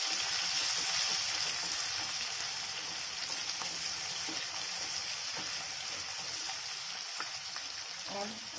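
Onion sautés in hot oil with garlic, red chilli, bay leaf and cumin, giving a dense, steady close sizzle with occasional stirring scrapes and faint voice-like hum underneath.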